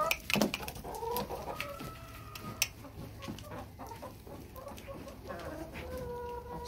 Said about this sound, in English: Now I just got to get all these chickens out.